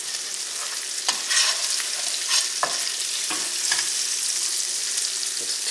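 Fried rice is tossed with a spatula in a hot skillet, giving a continuous close sizzle punctuated by sharp, irregular scraping strokes.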